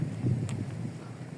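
Steady low rumbling wind buffets the microphone throughout, a continuous gusty roar with a faint brief rustle partway through.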